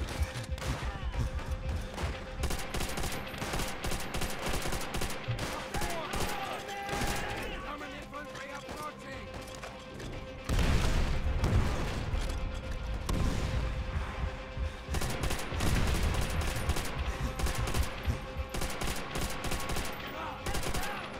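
Gunfire aimed at the player in Call of Duty: World at War, dense bursts of machine-gun and rifle shots crackling continuously and loudly, with a heavier surge of fire midway and someone talking over it.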